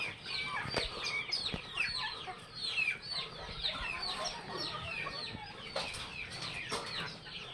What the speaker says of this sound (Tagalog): Pakain ng mga manok at saka pabo si Wina